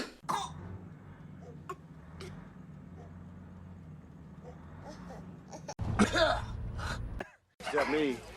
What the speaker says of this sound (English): Has a terrible cough.